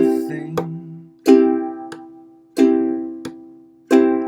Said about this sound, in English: this tap, strum, tap, strum